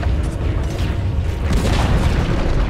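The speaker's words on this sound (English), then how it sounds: "Dire's middle tower has fallen." A tower in the Dota 2 video game falling and collapsing, a loud, rumbling low boom with a crumbling texture that swells and sustains throughout, close and without speech.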